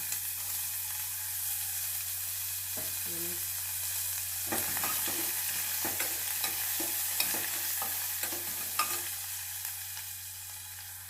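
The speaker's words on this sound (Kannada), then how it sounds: "ಸಾಸಿವೆ ಹಾಕ್ಕೊತಾ ಇದ್ದೀನಿ ಜೀರಿಗೆ ಸ್ವಲ್ಪ ಕರಿಬೇವು ಮತ್ತು ಈರುಳ್ಳಿ ಹಾಕ್ಕೊತ ಇದ್ದೀನಿ" Mustard seeds, cumin, curry leaves and onion frying in oil for bitter gourd palya, a faint steady hiss under a low hum, then a run of crisp irregular pops and spoon taps.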